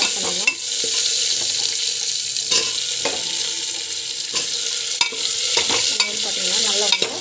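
Chopped vegetables crackle in hot oil as they are stir-fried, with a loud continuous sizzle broken by repeated spatula scrapes and knocks against the pan while a voice talks over it.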